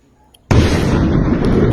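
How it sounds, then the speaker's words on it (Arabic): A Yemeni house blown up by Houthi fighters: after a brief near-silence, one sudden loud blast erupts and rolls straight into a sustained, dense roaring rumble with crackling debris. "هذا طبعا منزل ثاني يمني يتم تفجيره من قبل جنود الكيان الحوثي"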